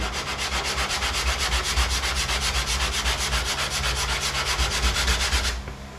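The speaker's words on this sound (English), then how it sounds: "you want to stop sanding at this point" Sanding block rubbed rapidly back and forth over body filler on a car panel, a loud, even rasping rhythm of many quick strokes that stops just before the end.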